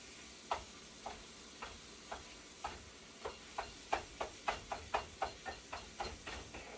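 One and a half pounds of ground beef cooking in a skillet, a soft sizzle underneath a steady series of sharp clicks and scrapes from stirring, close and fairly quiet, with no one speaking.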